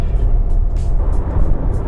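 Volkswagen Tiguan 1.4 TSI cruising on the SKVE highway, a steady loud low road and engine rumble with tyre roar from inside the cabin, continuous throughout with no talk.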